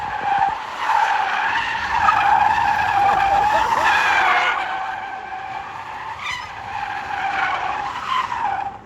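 Tires squeal in a sustained, loud skid as a car drifts at a pop-up car meet in California, the screech wavering steadily for several seconds with a brief dip before rising again.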